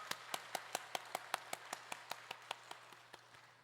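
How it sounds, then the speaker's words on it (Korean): A church congregation claps together in a steady, even rhythm of about sixteen sharp claps. The claps start firm and fade gradually toward the end, with no talking over them. "우리 하나님께 먼저 감사와 찬송의 박수를 먼저 올려드리겠습니다."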